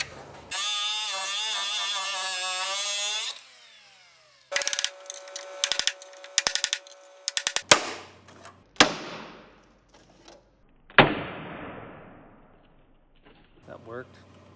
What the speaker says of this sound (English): let's try the cut-off wheel